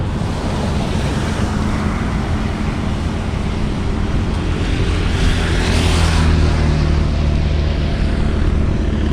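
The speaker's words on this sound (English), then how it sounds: "since it's raining guys" Heavy rain drumming steadily on a brand-new Volkswagen Virtus GT Line, a loud, dense, unbroken roar heard from inside the car, with a low rumble beneath and no speech.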